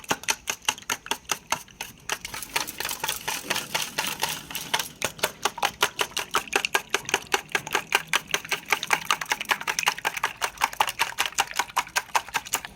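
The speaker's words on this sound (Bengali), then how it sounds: "হ্যান্ড উইক্স দিয়ে খুব ভালোভাবে ফেটিয়ে নেবো ডিমটাকে" A hand whisk beats eggs with red chilli powder, garlic paste and ginger paste in a bowl, giving rapid, even clicking strokes close up that run on steadily without any talking.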